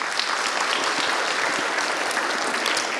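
Loud, steady applause from a congregation at a Hindi-language Christian church gathering, honoring a woman, dense clapping sustained evenly from start to finish.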